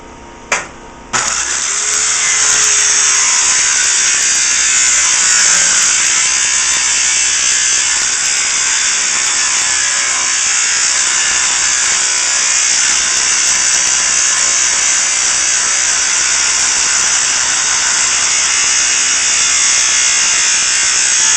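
A circular saw rips steadily through material during a remodel demolition, loud and continuous after a brief start, its high whine held without a break for the rest of the stretch.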